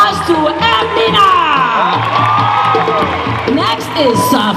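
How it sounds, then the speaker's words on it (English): Audience at a Somali kids' fashion show in Minneapolis cheering, whooping and shouting loudly and continuously, with children's voices and some applause mixed into the crowd noise while an announcer speaks over it. "Please give a warm applause to Amina."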